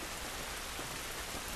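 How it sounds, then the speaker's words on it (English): Steady rainfall in the video game The Last of Us, a dense, even hiss of drops spattering on surfaces, close and continuous without pauses. "This rain ain't gonna do us any good."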